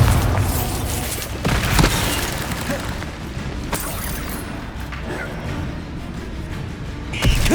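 Bombarda blasting spell in the Hogwarts Legacy video game: booming impacts with sharp cracks and clattering debris, one heavier hit early and another near the end, over a rumbling low background of combat noise.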